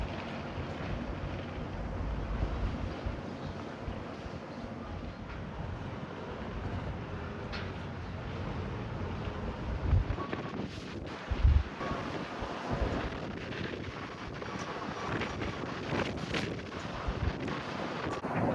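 Dust-storm wind buffets the microphone in continuous rough gusts, roaring and fluttering with a few sharper thumps, loud and close throughout.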